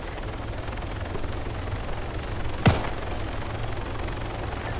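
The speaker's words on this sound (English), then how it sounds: "Oh, there's one chopper left." A helicopter's steady rotor drone fills a video game scene, constant and moderately loud, broken once by a sharp bang midway.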